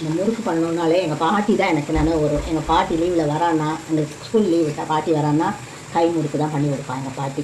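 Hand-made murukku dough sizzles and bubbles steadily in hot boiling oil, a continuous frying hiss running underneath someone talking throughout.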